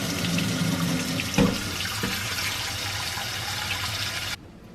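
Steady running water from a tap pours into a sink, with a small clunk partway through before the flow cuts off near the end.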